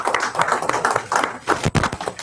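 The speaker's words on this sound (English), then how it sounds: "Y'all get that round of applause." A round of clapping from a lecture audience, fairly loud with distinct rhythmic bursts and a few sharper hits near the end.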